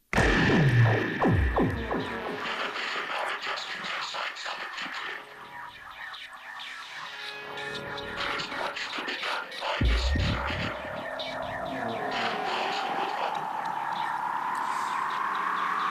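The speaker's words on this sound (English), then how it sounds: "the sound just came out of the SPD-SX. That's another gadget I use, the Roland SPD-SX sampling pad" Electronic sampled sounds fire off in layers from a Roland SPD-SX sampling pad: throbbing hums, chirpy bird-like effects and sweeping tones, with a swelling pitch rise toward the end.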